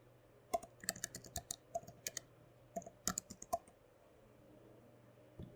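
Quiet, irregular keystrokes on a computer keyboard as a password is typed, with a cluster of clicks in the first half, another burst around the middle, and a faint low hum underneath.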